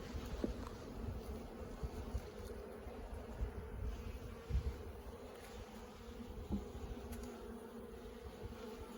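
Honey bees buzz steadily around open beehive splits outdoors, a dense continuous drone of many insects close by with no talk.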